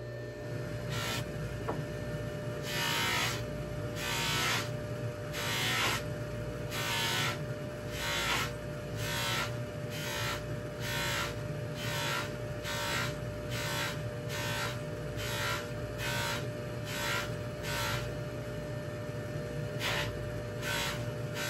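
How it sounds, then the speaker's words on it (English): A buffing wheel spins against silver charged with ZAM compound, giving a steady loud whirring hum with a high whine and a rhythmic pulsing rasp as the piece is worked; no voices. "I'll move to the secondary wheel, which is where I use the ZAM compound"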